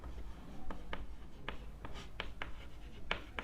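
Chalk or marker strokes on a board as a teacher writes a physics expression for a magnetic field, a series of short sharp scratches and taps at an irregular rhythm, close and clear with almost no talk.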